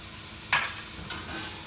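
Minced meat and thyme powder fry in a pan for Indian-style dirty rice, with a steady soft sizzle broken by a sharp scrape of stirring and a fainter second scrape.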